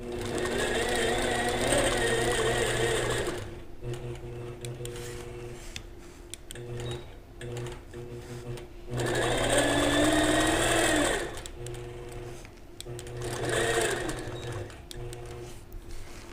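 Sewing machine doing free-motion quilting with a ruler, running in three bursts of fast rhythmic stitching separated by pauses with a faint mechanical hum and soft ticks, close and clear.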